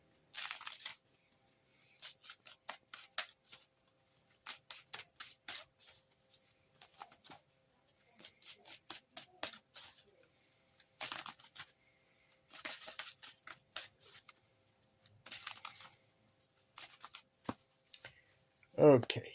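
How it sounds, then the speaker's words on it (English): Tarot cards from a witch-themed oracle deck being shuffled in repeated crisp riffling bursts, close and fairly quiet, with brief pauses between flurries and a soft voice at the very end. "let's choose our first card and get the reading underway"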